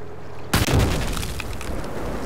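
A loud C4 charge detonates in a video game with a sudden boom after half a second of quiet, followed by a sustained roaring, crackling rumble that fills the rest of the moment.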